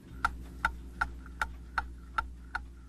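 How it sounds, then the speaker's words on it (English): A clock ticks in a collector's home filled with clocks, seven crisp evenly spaced ticks about 0.4 seconds apart, close and clear over a quiet low hum. "The world of Jeffrey Smith is filled with the soothing sounds of ticks and tocks, chimes and gentle whirring."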